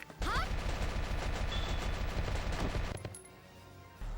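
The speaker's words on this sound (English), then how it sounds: "The tanks also fire rounds, incendiary rounds" Rapid bursts of incendiary rounds fired by tanks in Valkyria, a dense loud volley of overlapping gunfire lasting about three seconds before dropping to a quieter rumble.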